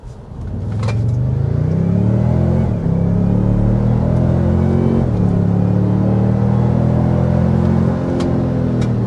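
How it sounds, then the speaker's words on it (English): A 2026 Toyota Sequoia SUV engine under hard acceleration, loud and close, with a steady rising drone that climbs in pitch through two gear shifts, heard alone without talk. "But first, we need to start with a hard acceleration."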